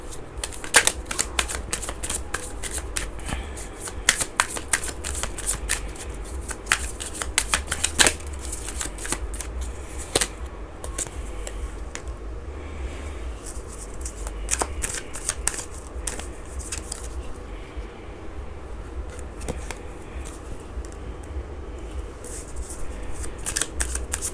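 Tarot cards are shuffled continuously by hand, with dense flurries of crisp riffling clicks and snaps up close, rising and easing over a long stretch with no talking.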